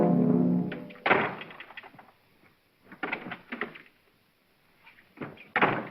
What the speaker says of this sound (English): Doors just don't open and shut themselves.